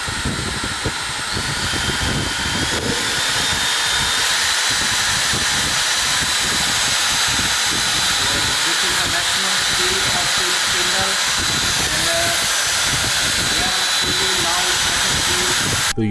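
Makita RT0700C compact trim router running continuously with a steady high-pitched whine and airy roar, loud and close, with a voice talking over it throughout.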